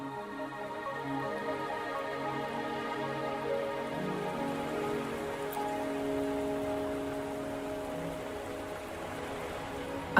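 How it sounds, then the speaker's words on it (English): Rain falling in the video game Wuthering Waves, a steady soft patter heard alone under sustained ambient music tones. "Are you trapped here by the rain?"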